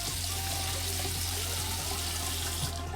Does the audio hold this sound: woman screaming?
no